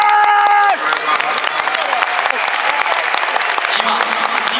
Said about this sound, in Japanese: 拍手の大きさが皆さんの期待を表してますよね